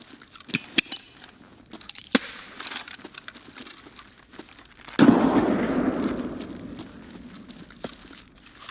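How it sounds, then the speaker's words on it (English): In Escape From Tarkov, a single grenade blast booms out with a sudden onset and a long rumbling decay, following a stretch of quiet scattered clicks and footsteps. "We'll use the grenades to check."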